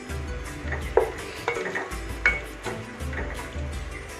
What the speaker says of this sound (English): Now little bit I'll fry this.